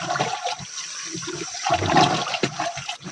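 Liquid fertilizer mixture for cucumber plants is stirred in a container, giving a close, continuous sloshing and swirling of water with small splashes, no voices.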